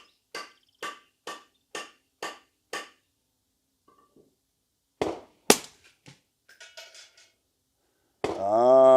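Six sharp, evenly spaced shots from a Ruger American rifle in 300 Blackout on an MDT Fieldstock, fired at a 100-yard target, each a crisp crack with a short tail. Scattered clicks and handling noises follow, then a loud sustained tone at the end.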